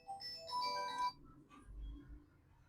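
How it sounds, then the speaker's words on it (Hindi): A mobile phone ringtone plays a bright, tinkling melody for about a second in a tailoring workshop, then stops, leaving low room rumble and faint murmuring. "किसका फोन आ रहा है?"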